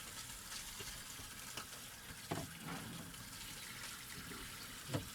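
Water runs steadily from a tap in a Coachman Leprechaun 260DS RV while de-winterizing, a soft continuous splashing hiss with a few faint knocks and clinks mixed in.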